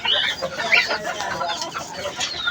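Several hens cluck and chatter close by in a rooftop coop, their short overlapping calls continuous and fairly loud.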